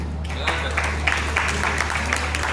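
An audience applauding at a Hindi poetry recital (kavi sammelan) in Kasganj, a steady moderate patter of clapping with a low hum underneath, no voice rising over it.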